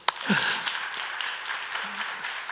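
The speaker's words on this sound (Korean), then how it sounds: "박수 한번." A church congregation claps during a worship service, scattered applause heard at a moderate distance with a brief sharp clap at the start, fairly faint, with a murmur of voices underneath.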